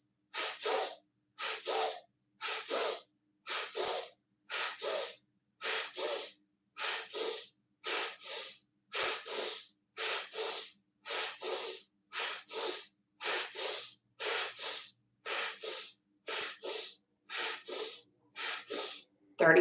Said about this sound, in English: making a lot of force with that exhale